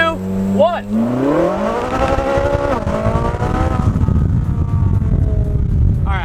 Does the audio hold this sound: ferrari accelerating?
yes